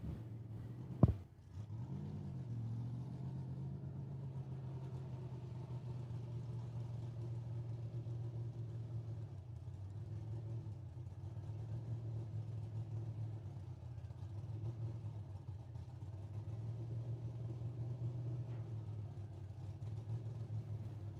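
A 1962 or 1963 Chevrolet Biscayne drag car at a dragway: one sharp bang, then a steady, faint engine drone that swells slightly now and then. No voices.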